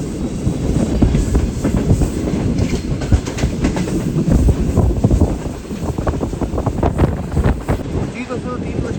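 A Green Line passenger train runs on rails between Lahore and Karachi, approaching Lathi Junction, heard from inside an economy-class coach as a loud, continuous rumble with rhythmic clickety-clack of wheels and wind buffeting throughout.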